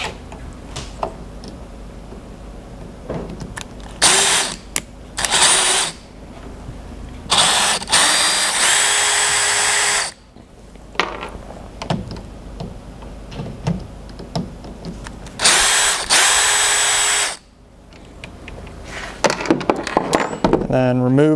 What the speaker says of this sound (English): screw gun or a screwdriver to get these bolts out, or nuts